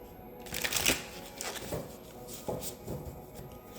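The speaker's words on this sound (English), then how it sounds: "And I pull a card from my astrology deck, just to see." A card is drawn from an astrology card deck, giving soft papery flicks and shuffling snaps up close, a few distinct bursts spread over a few seconds, with no talking.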